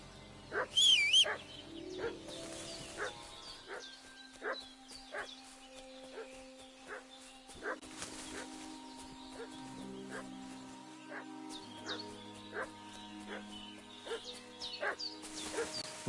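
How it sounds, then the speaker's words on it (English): In the medieval video game Kingdom Come Deliverance 2, a dog barks in a short burst near the start, followed by quieter yips and whimpers under a steady game soundtrack, with faint birds. "What's that dog making such a fuss about?"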